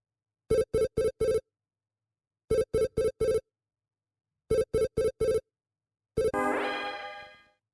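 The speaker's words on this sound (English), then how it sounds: "I have a video phone call from Jamie" A video phone call rings in the Snatcher video game: three groups of four sharp electronic beeps, then a final tone that rings out and fades, with no talk.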